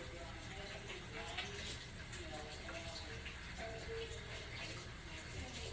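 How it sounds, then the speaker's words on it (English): Water from a kitchen tap runs steadily into a sink during handwashing, a constant faint gush with a few soft splashes from hands moving in the stream. "Let me wash my hands."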